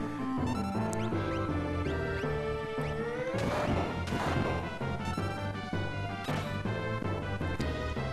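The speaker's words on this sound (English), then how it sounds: "Why are you hitting yourself now, Edgar?" Smash and impact effects sound in the Final Fantasy 6 video game as a character strikes himself, with several sharp crashing hits over a steady, loud layer of game music.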